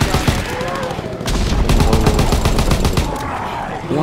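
Rapid gunfire in a World War II Nazi Zombies video game, dense bursts of automatic shots cracking one after another for several seconds, loud and close, with a brief lull before the firing resumes.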